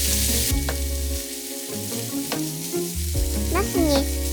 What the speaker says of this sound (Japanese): ナスを炒め合わせます。